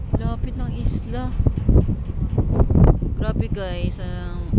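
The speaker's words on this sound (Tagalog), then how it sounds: "Medyo malakas yung hangin." Strong wind rumbles against the microphone on a boat trip near an island, with people talking throughout over the gusts.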